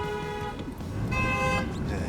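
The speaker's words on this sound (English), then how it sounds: "They honk in Brooklyn still." Short bursts of car horn honking on a Brooklyn street, two tonal toots at moderate distance amid faint traffic and city background.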